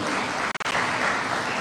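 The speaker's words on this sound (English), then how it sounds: "Please clap for our governor." A crowd at a Kenyan youth parliamentary gathering claps steadily for the Nairobi governor, dense continuous applause filling the room, with a brief dropout partway through.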